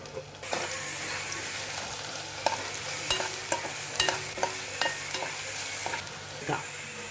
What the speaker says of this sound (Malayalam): നമ്മൾ 1 ടീസ്പൂൺ നെയ്യ് ഒഴിച്ചിട്ട് 1 നേന്ത്രപ്പഴം ചെറുതായിട്ട് അരിഞ്ഞെടുക്കണം. അതും കൂടി നന്നായിട്ട് വഴറ്റണം.